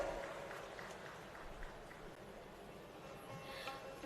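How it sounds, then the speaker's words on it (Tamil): Audience at a bank loan-distribution ceremony in Puducherry claps in a steady, moderately loud wash of applause that holds for several seconds without a clear break. "ஒரு பெரிய கைத்தட்டல் கொடுத்துடலாம்"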